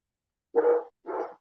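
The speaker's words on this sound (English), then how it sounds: "so if you hear dog barking" Two short dog barks close by, one after the other, with silence around them.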